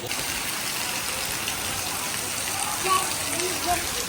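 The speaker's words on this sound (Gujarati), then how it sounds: "વરસાદ આવ્યો જા નાવા" Steady rain hisses on surfaces throughout, with a low rumble underneath and faint voices briefly audible.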